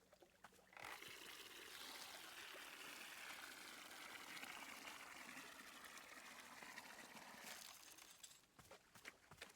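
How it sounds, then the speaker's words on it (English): Water from a watering can pours steadily in the WanderStop game, a soft continuous trickle lasting several seconds before tapering off into a few faint drips. "watering can makes noises!"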